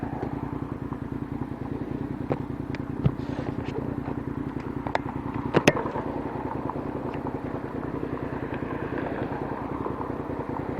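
Motorcycle engine while riding in cold January weather on roads covered in sand and salt, a steady close throbbing drone with faint clicks and rattles running throughout.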